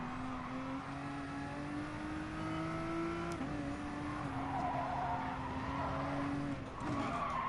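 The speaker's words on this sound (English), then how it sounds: "I'm locking the fucking brakes up." Tyres skid and scrub as a racing car's brakes lock up in Gran Turismo Sport, a steady engine drone running throughout with a sharper squeal near the middle, loud and continuous over the full stretch.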